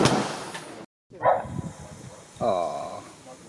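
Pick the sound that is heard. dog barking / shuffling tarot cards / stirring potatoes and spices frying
dog barking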